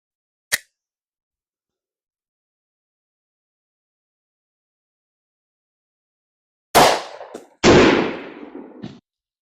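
Sharp gunshots from a .45 pistol loaded with Winchester T-Series 230 grain +P rounds, fired into water jugs: one isolated crack, a long silence, then two close loud reports with a short tail.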